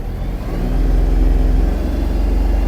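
Kubota KT-27 mini tractor's diesel engine running steadily as it reverses, a close, continuous low throb that builds slightly in the first second and then holds level, with no voices.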